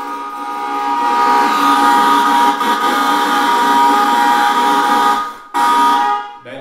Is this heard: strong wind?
no